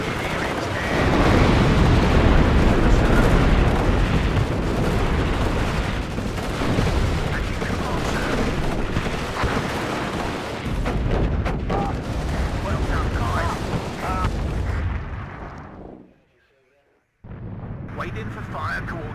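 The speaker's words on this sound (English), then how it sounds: "Napalm!" Napalm strikes in the WARNO wargame unleash long, heavy rolling explosions and roaring fire with scattered gunfire, loud and sustained before cutting to near silence, then resuming; voices talk intermittently.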